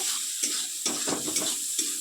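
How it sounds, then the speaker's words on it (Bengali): Masala fried and stirred in a pan as part of a bottle gourd and mung dal dish, with a steady close sizzle and several soft scraping stirs, no talk. "মশলাটা দিয়ে দিলাম এবার মশলাটা ভালোভাবে কষিয়ে"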